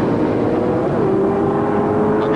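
Drag racing cars, including a big-engined Chevrolet Biscayne, launching down the strip at the 1978 NHRA Sportsnationals, a loud sustained engine roar with a rising whine as the cars pull away.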